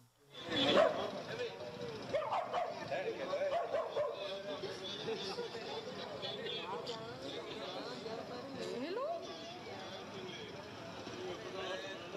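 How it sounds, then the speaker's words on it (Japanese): A dog barks and yips protectively beside its sleeping, apparently drunk owner as people try to help, the sharp barks close and repeated over a noisy background with people talking throughout. "人々が助けようとしても飼い主に危険だと思って吠えていました"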